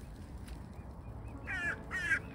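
Crows in an outdoor setting give two harsh caws around the middle and end, fairly close over low background noise, with faint bird calls earlier.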